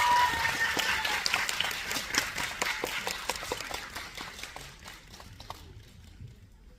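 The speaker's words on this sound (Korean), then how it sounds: "한 박수 보내주세요." An audience at a Disney+ Nine Puzzle screening Q&A event gives a burst of clapping and applause, a dense patter of claps that gradually thins out and fades into quiet.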